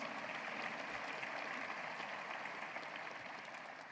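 Faint, distant applause from an audience, a steady soft patter of clapping that tapers slightly at the end.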